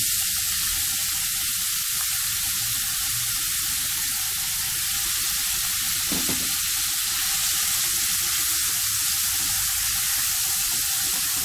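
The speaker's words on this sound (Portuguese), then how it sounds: "Colocar aqui o presunto para dar uma fritada" Ham frying in hot oil in a small heated pan, giving a steady, loud, continuous sizzle throughout with one brief louder crackle partway through.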